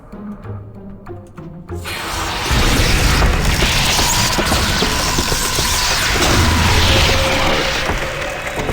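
Mechanus Cannon spell firing in the Planescape: Torment video game: a few soft clicks, then a sudden loud boom swelling into a sustained, roaring blast that holds for several seconds.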